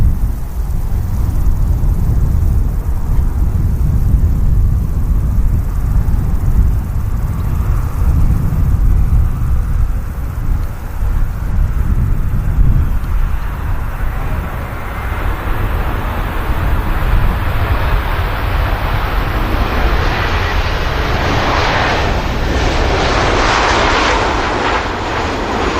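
An inbound aircraft from Rome nears Manchester Airport, a loud, broad engine rumble building toward the end as a rising, brighter jet roar sweeps in close.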